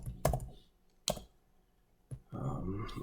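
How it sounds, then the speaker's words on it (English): Clicks of a computer keyboard as an inequality is typed into a graphing calculator, three separate sharp keystroke bursts spaced about a second apart, followed by a rougher stretch of continuous clatter. "I'm just typing it in"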